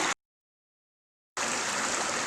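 A creek flowing through carbonate rock country, heard as a steady broadband rush of moving water, close and moderately loud, after a brief burst and a second of silence, with no voices.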